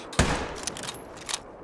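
A single sharp rifle gunshot in the hunting game theHunter: Call of the Wild cracks near the start, followed by a faint fading echo.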